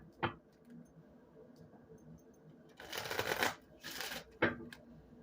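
Tarot cards are shuffled by hand, with a crisp riffle burst and a couple of sharp card taps close by against a quiet room.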